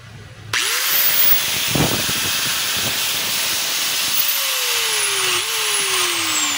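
A DeWalt 4-inch angle grinder (DWE8100S) starts up after a wiring repair and runs steadily at high speed, a loud continuous whine that holds its pitch with a slight dip near the end.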